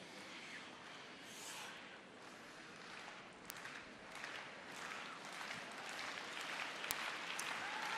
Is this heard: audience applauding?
yes